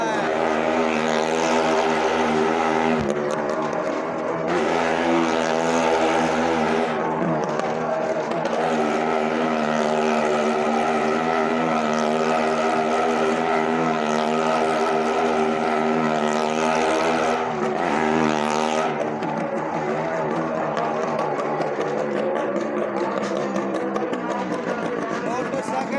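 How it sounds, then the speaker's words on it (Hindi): A motorcycle circles inside a well of death stunt arena at a shrine fair, its engine roaring loud and continuous with rising and falling pitch for the whole stretch, while someone talks over it. "मौत के कुएं में ये मोटरसाइकिल का करता पेश किया जा रहा है।"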